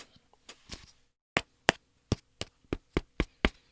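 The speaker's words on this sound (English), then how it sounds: "That's the sound of a plastic tub." A metal spoon taps a plastic tub of cornstarch, a few soft scattered knocks, a short pause, then a steady run of about nine crisp, evenly spaced taps, close and clear, with no voices.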